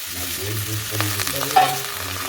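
Garlic, potato and chopped bottle gourd fry in a pan for dal while a spatula stirs them, producing a steady sizzle broken by scraping strokes and a sharper clink near the end, close and with no talk.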